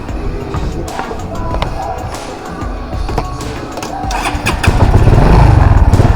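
A motorcycle engine with a fault turns over and catches, building to a loud, rough rumble close by.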